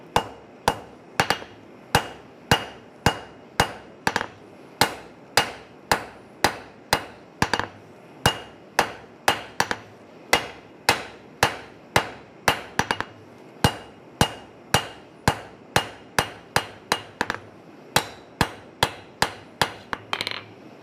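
A forging hammer strikes hot iron on an anvil during an evening coal-forge session, ringing out in a steady, fast series of sharp metallic blows, near and loud, with brief gaps between bursts and no talk.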